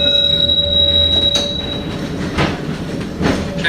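Tram wheels on the Wynyard Loop in Auckland squeal loudly, a sustained high metallic screech over rumbling rail noise, with a couple of sharper clanks near the end.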